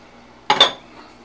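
A quick pair of clinks against a mixing bowl as raisins drop into zucchini bread batter, close and brief, over a quiet kitchen background.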